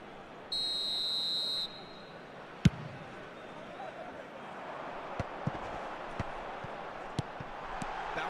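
Referee whistle blows once, a short shrill blast, in eFootball 2025 football match gameplay, followed by a soft thud and scattered ball kicks over low stadium crowd ambience.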